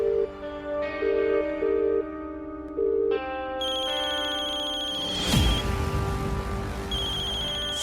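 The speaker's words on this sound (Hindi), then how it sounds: "घंटी जा रही है।" A phone ringtone plays indoors in a Hindi TV drama scene, a repeating electronic melody of beeping tones that loops a few times, then a synthetic musical swoosh and sustained tones.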